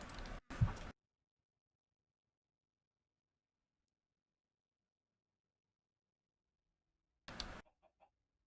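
Minecraft chickens cluck in two short, nearby bursts, one at the start and one near the end, separated by a long stretch of silence.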